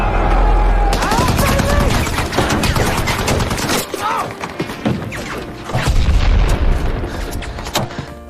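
A firefight at a US outpost in Afghanistan: loud continuous bursts of gunfire with heavy booming explosions rolling over one another, dense and close, with shouting voices mixed in.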